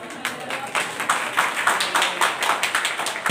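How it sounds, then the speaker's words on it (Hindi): An audience claps weakly, a sparse, uneven patter of hand claps in a steady rhythm lasting a few seconds, fairly close. "बहुत कम ताकत से तालियां बजाने के लिए"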